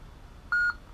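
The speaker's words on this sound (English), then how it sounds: "press and hold this button through 2 beeps" A single short electronic beep sounds from the button on a lightsaber hilt while its sound font is changed, clear and brief against a quiet background.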